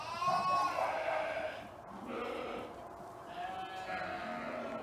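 Pregnant ewes close to lambing bleat nearby, one long wavering cry followed by two softer bleats in a quiet farm setting.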